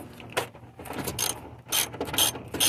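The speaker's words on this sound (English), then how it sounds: "We have a wrench and a socket." A socket wrench ratchets in quick bursts of loud, close clicking while a window motor is installed in a 1989 Oldsmobile Regency 98, with short pauses between runs of clicks.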